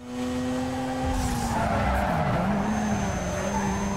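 Mazda RX-7 tires skid and squeal under hard braking in the Need for Speed Most Wanted video game, a loud continuous screech over steady engine roar, with no talking.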